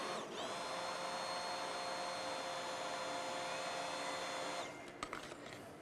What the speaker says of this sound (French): On est en train de mixer le tout.